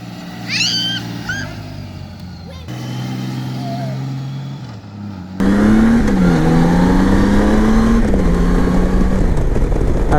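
A Honda Goldwing F6B motorcycle engine comes in loud and close partway through, revving up and rising in pitch as it accelerates through the gears, after quieter idling sounds.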